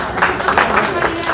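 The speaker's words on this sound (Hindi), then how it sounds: "ताली बजा दीजिए।" An audience at a Hindi poetry gathering claps in loose, uneven bursts, the applause fairly loud and close, with some voices mixed in.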